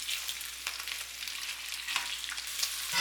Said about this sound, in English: Turn the beef over.